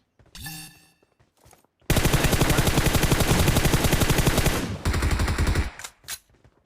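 Gunfire in PUBG Mobile: a long, loud burst of rapid automatic fire runs for about three seconds, then a shorter burst follows after a brief pause, with faint game sounds before it.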